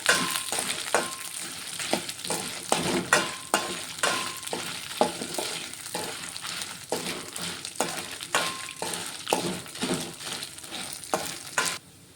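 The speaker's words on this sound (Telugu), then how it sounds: "అలాగే ఇదిగోండి ఎండుమిర్చి కూడా వేసుకుంటున్నాను ఇవి కూడా కొంచెం ఫ్రై చేసుకుంటున్నాను" Dried red chillies fry in a hot pan while being stirred, steady close sizzling broken by regular scraping and clattering strokes, repeating throughout without any voices.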